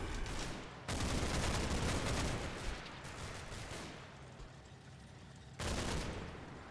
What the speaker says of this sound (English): they've just walked into machine gun fire